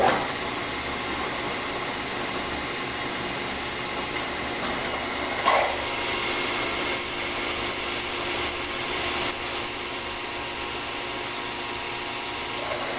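A power drill boring extra holes through a clamp in a workshop, a steady whirring drone that runs throughout and briefly grows louder and grittier midway before settling back.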